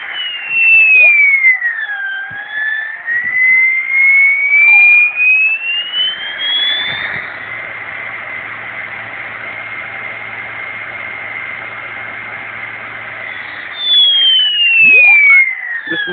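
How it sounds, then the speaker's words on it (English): Old SepEx electric motor running on a controller test, a loud, steady whine that glides up and down in pitch with a hissing mechanical drone underneath. "This motor is considerably noisier than the other, but it definitely works."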